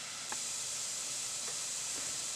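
Celery, onions and carrots sizzle in a soup pot for chicken and rice soup, giving a steady, soft hiss with a couple of faint clicks, close and quiet.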